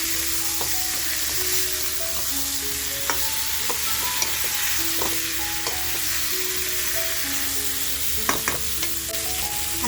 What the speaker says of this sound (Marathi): ते मटण टाकून छान असं फ्राय करून घेऊया